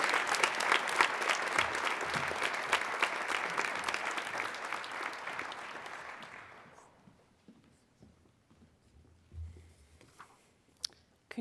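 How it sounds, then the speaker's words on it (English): Audience applause at a high school National Honor Society induction ceremony, a sustained round of clapping from a crowd that slowly thins and fades out over about seven seconds, leaving a quiet room. "Let's give them one last round of applause"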